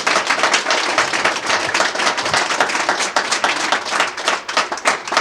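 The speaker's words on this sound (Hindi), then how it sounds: "इनके सम्मान में देई वाले कैसे ताली बजाते हैं, एक बार खतरनाक वाली ताली बजाएंगे।" Audience at a business motivational event clapping enthusiastically for the chief guest, loud, close, vigorous rapid hand-clapping with distinct individual claps, steady throughout.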